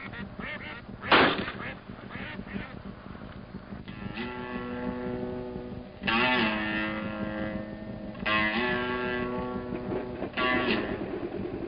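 Ducks quacking in the Florida Everglades, several loud nasal calls in bursts, one sharp honk early, then long harsh quacking runs separated by brief lulls, fairly close with no voices.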